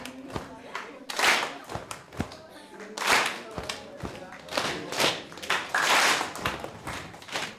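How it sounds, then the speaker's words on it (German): A group of village residents in a choir rhythm exercise claps and stomps together, with bursts of hand claps and dull foot thuds in a loose shared beat, while voices talk underneath. "Ich habe die Leute klatschen und stampfen lassen, weil ich sie auf jeden Fall einen gemeinsamen Rhythmus erleben lassen wollte"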